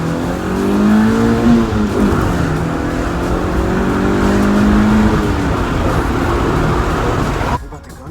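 A turbocharged D16 engine in a right-hand-drive Honda EF hatchback revs up and holds a steady, loud drone, heard up close from inside the car until it cuts off at the end.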